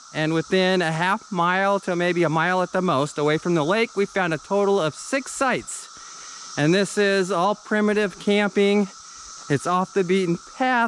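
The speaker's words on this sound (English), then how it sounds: "you can probably hear the sound of the cicadas in the background" A steady high-pitched buzz of cicadas in Indiana runs in the background beneath someone talking close by.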